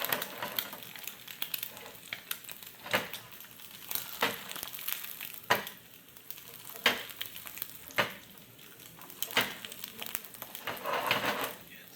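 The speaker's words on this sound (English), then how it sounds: "the yolk has become a little bit more cooked, so we'll let that side cook a little bit more" Eggs frying in a pan, with a continuous soft sizzle and crackle and intermittent sharper spatula taps and scrapes, fairly close and alone without talk.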